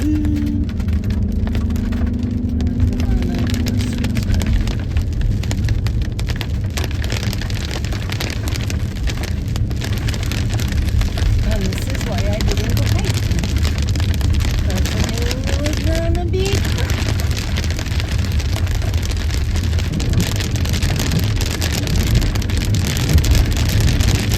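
Steady rain drums on a car while driving on a road trip, a constant broadband wash with low road rumble throughout, and faint voices now and then underneath.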